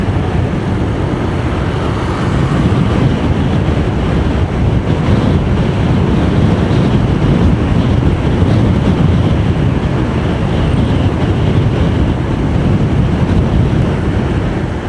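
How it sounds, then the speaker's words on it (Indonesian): Strong wind roars steadily across the Pantura coastal road in Java, a dense, continuous rushing gust buffeting the microphone for the whole stretch with no voices. "kalau di Pantura anginnya besar banget"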